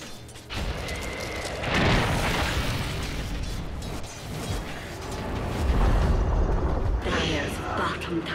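Tower crumbling during Dota 2 play: a loud rumbling crash with bursting debris that swells around the two-second mark and again near six seconds, under a dense bed of game battle noise.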